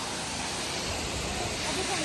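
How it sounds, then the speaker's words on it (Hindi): Gajpalla waterfall roars as a dense, constant rush of falling water, loud and steady throughout, with no breaks or distinct splashes. "तो फाइनली हम पहुंच चुके हैं गजपल्ला वाटरफॉल"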